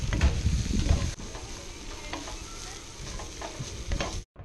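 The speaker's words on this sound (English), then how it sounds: "I'm going to add the cumin and coriander seeds just to that." Cumin and coriander seeds with a cinnamon stick added to frying onions for an Ayurvedic dahl. A loud burst of crackling sizzle with stirring comes first, then settles into a quieter steady fry with occasional scrapes.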